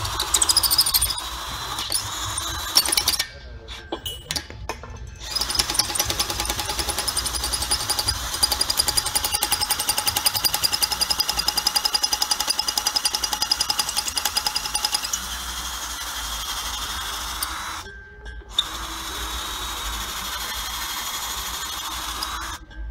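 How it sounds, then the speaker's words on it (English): A half inch drill bit bores through the seam of coiled tubing with lubricant sprayed in, giving a loud, steady grinding whine that twice cuts out briefly before starting up again. "Lubricant sprayed in, standard supplied half inch drill bit."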